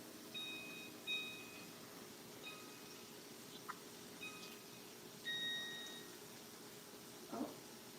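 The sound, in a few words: kitchen timer beeping while being set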